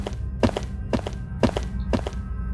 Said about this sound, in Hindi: आसपास जो है ना कदमों की आवाज आ रही है।